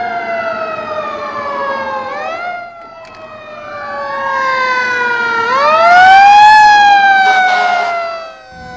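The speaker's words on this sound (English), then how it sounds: "When emergency vehicles approach, always give them the right-of-way." A loud emergency vehicle siren close by, its wailing tones sweeping up and down in pitch over several cycles as it approaches, with road rumble beneath.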